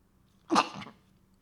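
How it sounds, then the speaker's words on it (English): A single close sneeze bursts out sharply, followed by a brief trailing exhale, in an otherwise quiet room. "I got to sneeze."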